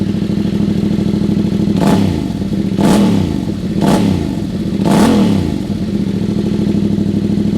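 A Yamaha Tenere 700 motorcycle with a Mivv Dakar aftermarket exhaust idles with a deep, throaty rumble, then revs sharply four times at a steady pace, each blip loud and raspy.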